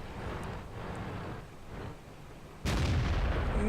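An AMX 13 90 tank's main gun fires once in a video game, a single sudden loud boom that breaks over a low rumbling background near the end.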